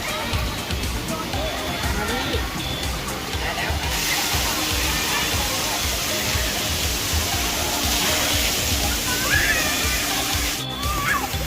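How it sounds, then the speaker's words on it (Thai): Water pours down steadily at a children's water play zone with slides and a water tunnel at a family hotel in Sriracha, a loud, continuous rushing splash that swells slightly partway through, with faint voices in the background. "เอาน้ำเทลงมาแล้วจ้า"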